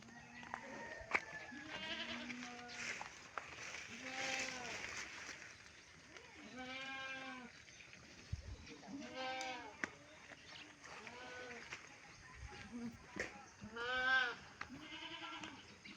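Three goats bleat repeatedly outdoors near their pen, wavering calls coming in clusters, some close and some farther off, with quiet background noise between them.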